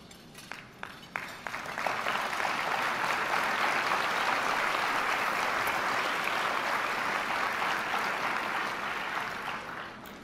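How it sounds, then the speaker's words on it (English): Sustained audience applause at a spotlight event, starting with a few scattered claps and swelling within two seconds into steady, dense clapping from a large seated crowd, holding strong before tapering slightly at the end, with no voices. "Glad you gave a great applause"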